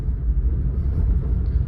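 Low, steady engine rumble of a pickup truck driving off-road in 2-wheel drive with its differential locked by a Freedom Locker kit, a continuous deep drone close by with no voices.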